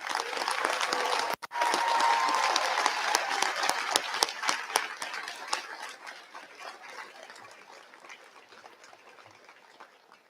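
Audience at a 2019 high school commencement ceremony applauding loudly as a dense, sustained crowd clapping that briefly dips, then gradually thins and fades toward the end.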